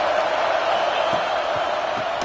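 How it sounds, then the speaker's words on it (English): Stadium crowd in the College Football 26 video game, a steady broad roar of many voices with faint cheers, loud and constant throughout the short stretch. "This crowd ready to make its presence known."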